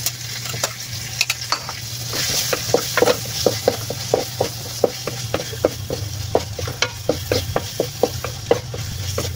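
Corned beef frying in a pan, sizzling steadily while a utensil stirs and scrapes through it in repeated rhythmic strokes, close and clear with no talking.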